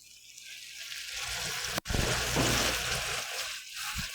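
Soy sauce seasoning mixture with cooking wine poured into a hot Korean earthenware pot for ttukbaegi bulgogi, giving a steady close splashing, sizzling pour that runs for about four seconds with one brief break.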